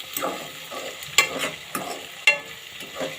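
Tomatoes and Maggi masala powder stirred in a pan, a close spoon scraping and stirring in repeated strokes with two sharper clinks, over a faint sizzle of frying.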